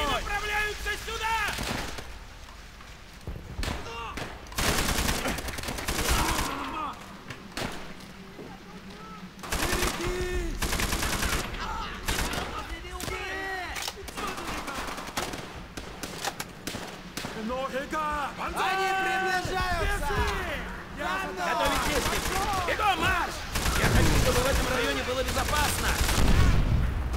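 Repeated gunshots and machine-gun bursts from Call of Duty: World at War crack in uneven volleys over roughly half a minute, with someone talking in Russian throughout.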